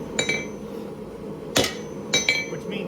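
Hammer striking a hot knife blade on an anvil to pre-form the bevels, a few sharp ringing blows spaced irregularly, close and clear with no voices.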